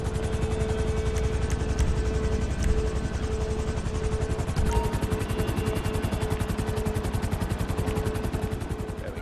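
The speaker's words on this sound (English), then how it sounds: "we gotta switch out this helicopter for the attack helicopter" Rapid, rhythmic rotor chopping of a helicopter in GTA V runs continuously, loud and close, with scattered gunfire-like pops underneath.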